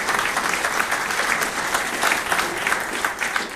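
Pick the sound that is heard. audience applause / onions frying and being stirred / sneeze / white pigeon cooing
audience applause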